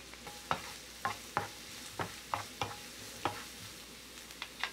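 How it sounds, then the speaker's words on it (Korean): Carrots and onion stir-fried over high heat in a frying pan with melted butter and cooking oil: a soft, steady sizzle broken by about a dozen sharp, rhythmic spatula clacks and scrapes, fairly faint and close. "버터가 녹으면 센 불로 당근을 넣어 20초 정도 볶고 양파를 넣어 볶아요"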